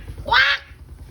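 A person mimics a duck's quack once, a single short nasal call close to the microphone, standing out over quiet background noise.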